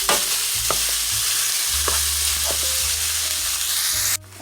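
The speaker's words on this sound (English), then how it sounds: "go in and break it apart and make sure everything gets nicely combined with the onions and green pepper and garlic" Ground meat is broken apart and stirred as it fries with onions, green pepper and garlic. A loud, steady sizzle runs under spaced spoon scrapes and knocks against the pan, all close-up.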